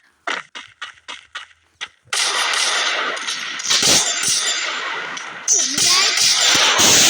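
A quick burst of separate video game gunshots, then sustained rapid gunfire and explosive bursts, with a person talking over the action.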